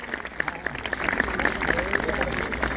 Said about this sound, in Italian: Vorrei un applauso per i Vigili del Fuoco